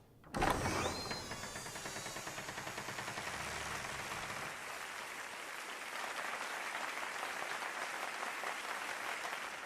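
Rapid, dense clapping from a crowd in the anime Jujutsu Kaisen builds after a sharp opening crack and continues steadily, a sustained patter of many hands.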